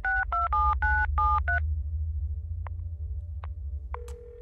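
Telephone keypad dialing tones in a video game: a rapid series of about six dual-tone beeps, followed by a few sparse ringing clicks and a steady tone, all over a continuous low hum.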